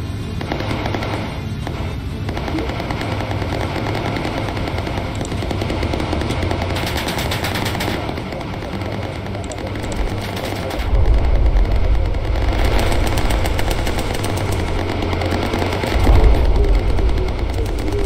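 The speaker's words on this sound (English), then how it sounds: "Good shooting, John." Bomber aircraft gunners firing machine guns in the Bomber Crew video game: loud, continuous rattling bursts over a droning engine, with heavier, denser volleys in the second half.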